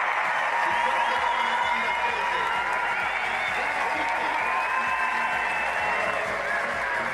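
Home crowd at a para alpine men's giant slalom race in Milano cheering and applauding, a steady, dense roar of applause and voices filling the whole stretch at high volume.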